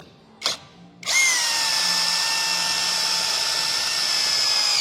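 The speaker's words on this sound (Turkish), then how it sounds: "sanayi tipi çam ağacımıza 20 santimlik vida denememize başlayalım" A Retools power drill driving a 20 cm screw into industrial-grade pine wood: a short whir first, then a loud sustained high motor whine with steady tone, close by and without talk.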